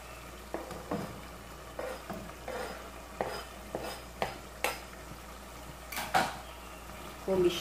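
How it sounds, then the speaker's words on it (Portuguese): A spoon stirs beef stroganoff with mushrooms and hearts of palm in a pot, giving soft repeated scraping knocks against the metal over a faint sizzle, fairly quiet and close. "Vou misturar."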